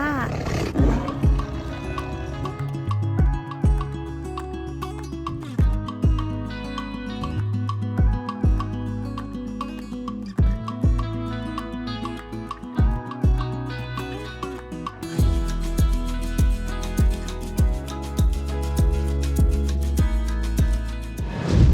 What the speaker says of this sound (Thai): เสือโคร่งเจ้าภูเขียว และเจ้าข้าวต้มเป็นเพศเมียทั้งสองตัวอายุ96ปีค่ะ